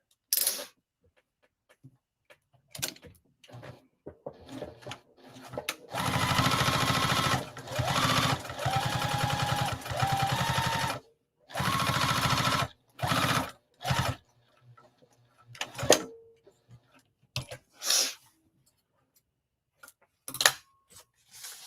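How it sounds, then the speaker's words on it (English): A sewing machine stitches a zipper onto fabric in bursts: a few seconds of steady whirring, short pauses, more runs, then scattered clicks and brief handling noises. "So I'm just going to sew this on here."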